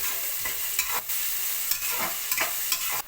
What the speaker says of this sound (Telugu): ఉల్లిపాయ వేగుతుంది